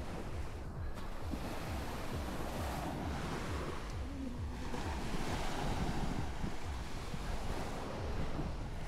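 Ocean surf washes steadily onto a gray sand beach, a continuous close roar of breaking waves with some wind buffeting the microphone and no talk.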